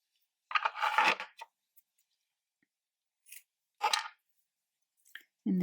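Scissors trim crochet yarn ends on a kangaroo-head pencil topper, making a few soft close snips in two separated bursts against near silence, with no talking.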